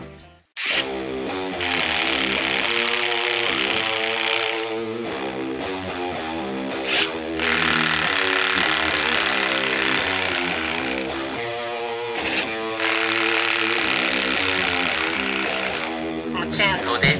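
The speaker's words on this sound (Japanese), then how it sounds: "今回の紹介はおもちゃの工具チェーンソーでした。" A bladeless plastic toy chainsaw from Daiso, worked by a pull ring, gives a loud, close electronic buzzing in three long bursts, each starting abruptly after a short pause.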